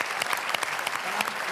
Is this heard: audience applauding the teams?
yes